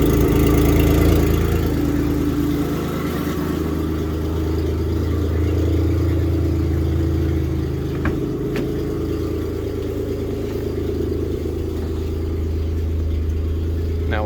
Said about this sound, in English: Now it's high idling at this moment.